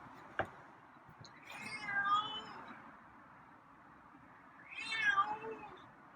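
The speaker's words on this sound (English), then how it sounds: "I haven't seen you meow at me at night in a while." A cat meows twice at night indoors, two drawn-out rising calls a few seconds apart, fairly close but quiet, with a small tap before the first and no talk.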